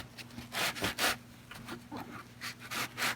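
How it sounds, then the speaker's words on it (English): A sanding block rubs back and forth across the frets of a Squier Affinity Stratocaster guitar, making rhythmic, close, raspy strokes about twice per second with brief pauses between them. "we just put a little bit of pressure on the sanding block and it cleans them all up nice and shiny"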